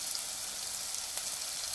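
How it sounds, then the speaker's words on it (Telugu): Ginger garlic paste with turmeric frying in a pan, giving a soft, steady sizzle with a faint crackling texture throughout and no voices. "ఇలా మంచిగా కలుపుకుంటూ వేపుకోవాలి."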